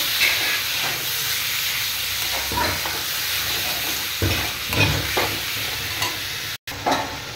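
Boiled taro leaves are stirred in a frying pan with spices, giving a continuous hissing sizzle broken by scraping spatula strokes, with a brief dropout near the end.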